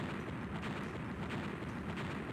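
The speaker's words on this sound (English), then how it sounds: "That was like 10 rounds of explosions" A dense, continuous rumble of overlapping video game explosions and crackling bursts, like a long string of blasts rolling together without pause.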